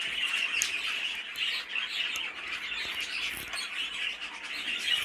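A Fife canary cockbird at a bird show chirps and twitters in a continuous high, bright stream of song, close and steady, with no voices over it.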